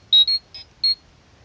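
A Mighty Morphin Power Rangers Legacy Morpher toy emits four short, shrill electronic beeps in quick succession, close and clear over near silence.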